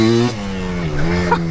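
A Yamaha Blaster two-stroke quad with a ported engine revs loudly and close, the pitch holding steady and then wavering briefly upward toward the end.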